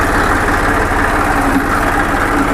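A Massey Ferguson 241 tractor engine runs steadily close by, a loud, even diesel throb with a low pulsing rhythm and no voices.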